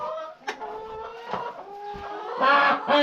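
Chickens cluck and squawk nearby in their pens in cold weather, a steady stream of throaty calls growing louder and busier toward the end.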